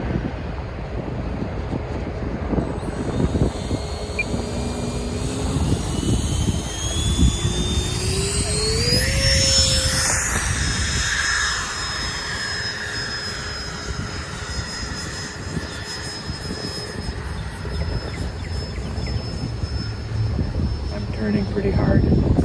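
An E-flite Habu STS radio-controlled plane takes off at roughly three-quarter throttle, its motor whine climbing in pitch before it levels off into a steady hum while the plane flies, with wind buffeting throughout.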